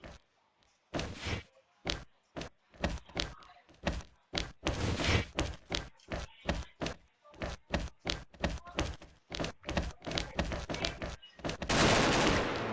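Rapid bursts of gunfire in a video game esports match, sharp shots in quick clusters and short volleys across the whole stretch, loud and close, ending in a sustained noisy wash.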